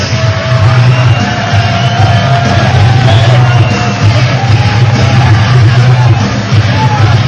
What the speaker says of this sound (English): how about a big round of applause for all of these cheerleaders from the Louisiana Swashbucklers